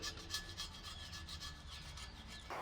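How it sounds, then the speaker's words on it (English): A flat scraper rasps steadily back and forth over a gearbox mating surface, clearing old gasket goo, in close, even strokes with a gritty scraping texture and no talk. "You always give mating surfaces a bit of a go with a flat scraper"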